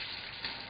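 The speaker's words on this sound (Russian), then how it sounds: "И можно класть курицу на сковородку и" Chicken pieces frying in a pan, a steady close sizzle running under the whole short moment with a brief louder crackle burst near the end.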